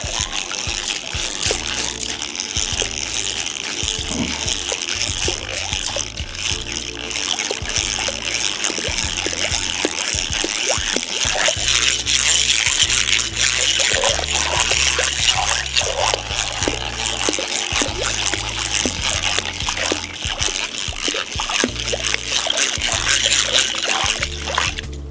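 An object is held submerged in water and stirred, giving continuous close sloshing, trickling and splashing with a choppy rhythm that runs the whole stretch without letting up.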